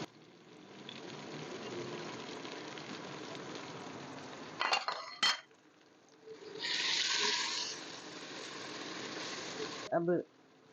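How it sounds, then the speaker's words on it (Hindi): Whole spices, chili flakes, turmeric, red chili, dried coriander and ajwain hit hot oil for radish pods with potatoes, sizzling quietly. Brief crackling bursts follow, then a louder hissing swell that fades. "अब इसमें ये मसाले, सारे खड़े मसाले डाल देते हैं।"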